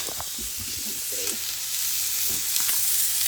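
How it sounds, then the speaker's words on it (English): Lamb shanks searing in a hot pan, a loud, continuous crackling sizzle with faint scrapes and pops, close up and without voices. "So that's just sizzling away."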